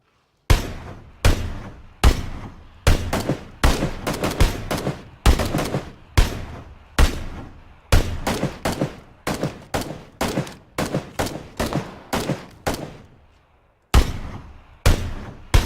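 Rapid gunshots crack out in a shooting video game, a long irregular string of loud, sharp single shots and quick clusters, each with a decaying echo, heard alone without talk.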